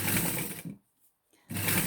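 A sewing machine stitches around the edge of a washable period pad, running in two loud bursts with a brief pause between them.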